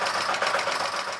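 A borrowed domestic sewing machine used at home for sewing sweaters runs steadily and continuously, a close, even mechanical whir with no pauses and no talk.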